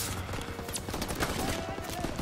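Dense, rapid machine gun bursts rattle without a break in a World War II battle in Call of Duty WWII, loud and close throughout, with a voice shouting over the fire.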